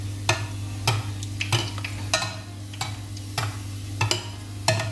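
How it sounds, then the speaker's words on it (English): Fry bread dough bubbling in hot oil, a low steady hiss and fizz broken by several sharp clattering knocks at irregular intervals, close and fairly loud, with no voices. "we're gonna put the bread in. See it starts bubbling."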